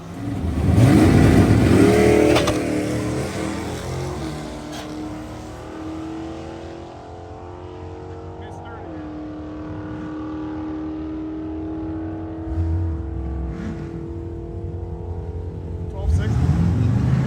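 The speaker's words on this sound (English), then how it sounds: "Cousin Paul got a chance to make a couple passes down the track" A loud turbocharged Ford Fox-body car with a GT40 engine roars and revs near on a drag strip, then fades into a lower drone as it pulls away, with another burst of engine noise at the end.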